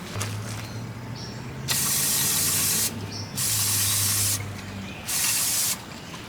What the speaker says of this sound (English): We're just going to get the old can of brake clean and hose her down and clean her out a little bit